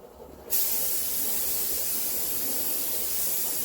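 A spray gun starts with a sudden hiss and holds a steady, bright spray while painting a Bonser engine cover at low pressure, close and continuous, with no voices.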